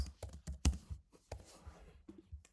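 Quick, uneven keystrokes rattle on a computer keyboard as a query is typed, close and fairly quiet, with crisp separate clicks and brief pauses between bursts.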